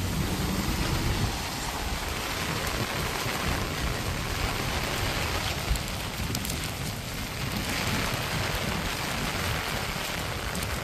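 Heavy typhoon rain pounds a house roof in Hong Kong, a dense, unbroken hiss and patter that stays loud and steady from start to finish.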